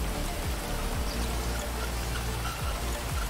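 Steady, dense rain hiss in Grand Theft Auto V fills the whole clip, with occasional low thumps beneath it and no voices.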